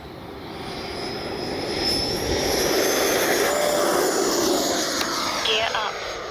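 An E-flite Viper 90mm RC jet's ducted-fan whine builds and sustains as it flies in to land into the wind, a steady airy roar rising to a loud pass, with someone talking over it.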